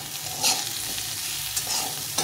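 Spices with red chilli powder and cumin powder frying in a pan, a steady close sizzle with a few brief scraping stirs.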